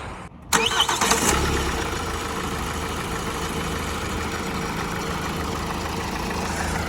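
A 2016 Hyundai i40 with automatic transmission cranks briefly and catches, settling into a steady close idle with a faint belt or pulley whir, no talk.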